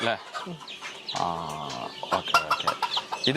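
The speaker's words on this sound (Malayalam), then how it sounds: "ഇത് 1 മാസമായ കോഴിക്കുഞ്ഞുങ്ങളാണ്" Young chicks about one month old, a mix of native naked-neck and fancy breeds like Silver Fayoumi, clucking and peeping close by in a busy poultry setting, with people talking over them throughout.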